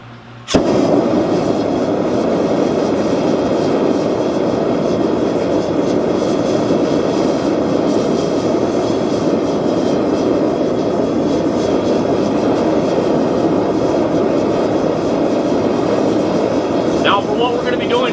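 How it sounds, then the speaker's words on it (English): Blacksmith forge being fired up for forging a spoon, a loud steady roar that starts abruptly and holds constant throughout, close by. "Let's get the forge fired up."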